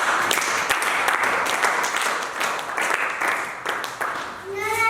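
A church congregation applauds and cheers during a French-language worship service, a dense wash of clapping that holds steady under a voice and swells at times.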